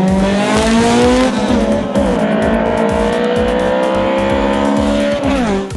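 Honda Civic at a drag strip roaring hard off the line in a race, one loud sustained engine note climbing through gears with tyre noise, close and dominant throughout.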